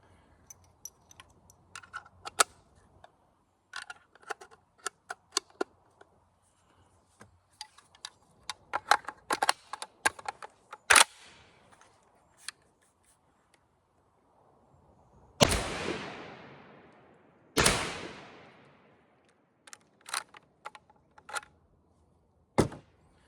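A C308 rifle fires rounds of ZSR .308 ammunition outdoors. Two loud, sharp shots come about two and a half seconds apart, each with a decaying tail, amid faint scattered clicks.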